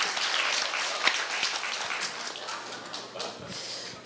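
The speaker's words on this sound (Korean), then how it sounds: "이지원 양을 위해서 좀 박수 좀 쳐주셨으면 합니다." Audience applause at a Korea University speech contest, filling the room steadily for several seconds in honor of a student contestant, dense and continuous with one sharper clap standing out early and slowly thinning toward the end.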